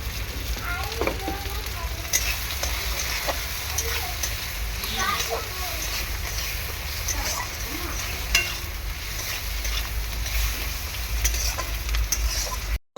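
Snakehead fish frying with chili and turmeric in a pan, a steady close sizzle with occasional stirring and scraping clinks, while someone talks throughout.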